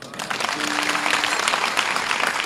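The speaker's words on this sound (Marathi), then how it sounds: "टाळ्या वाजवल्या तुम्ही" Audience at a Marathi kirtan breaking into applause, a dense burst of clapping from a seated crowd that holds steady for a couple of seconds with no talk over it.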